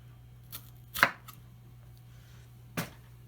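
A knife cuts out the inside of a pepper on a board: a few soft, isolated cutting taps, one louder than the rest, sound quietly over a low steady hum.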